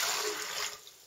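A tap runs in a kitchen while water is prepared for a sourdough bread dough, a close steady rushing stream that fades after about a second.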